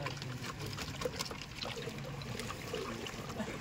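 Water is poured into a bucket to mix zinc sulphate, a soft, steady trickling and splashing stream heard close but quietly, with no talk.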